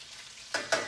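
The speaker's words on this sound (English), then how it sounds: "You can hear the sizzle." Breaded chicken frying in a pan gives a soft steady sizzle, with two brief louder crackles or scrapes near the end of the short stretch. Close and quiet, with no voices.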